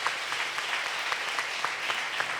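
A town hall audience gives sustained applause, a dense, even wash of many hands clapping together at moderate loudness without pause.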